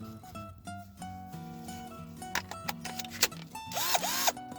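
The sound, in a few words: power drill driving sheet metal screws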